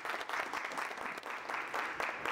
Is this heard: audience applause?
yes